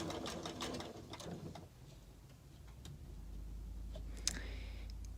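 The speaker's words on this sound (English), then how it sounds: "make sure that I'm sewing just right over that apex of the point of the star" A sewing machine stitches a quilted star table runner, first with a quick burst of needle strokes, then a quieter steady whir with faint ticks.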